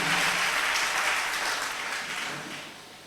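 Congregation applauding during a Sunday church service, a dense, steady wash of clapping that starts strong and slowly thins toward the end, with no voices over it.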